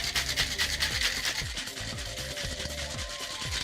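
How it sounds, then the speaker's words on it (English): Tuscan Lemon Drop cocktail shaken vigorously in a cocktail shaker: a steady, fast rhythmic rattle and swish of ice runs throughout, close and fairly loud, with no voices. "we're gonna shake it like 6 seconds only vigorously"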